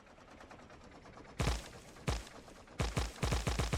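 Tank flamethrower in Factorio firing into a forest, heard as a series of sharp, loud bursts: two separate blasts, then a rapid string of repeated bursts, with no talking.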